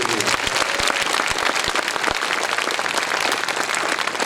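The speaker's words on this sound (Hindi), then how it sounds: "जोरदार मारो ना ताली मेरे यीशु के लिए" A Hindi-speaking gathering at a revival meeting in Manendragarh applauds loudly for Jesus, dense steady clapping filling the whole stretch with some sharp individual claps standing out.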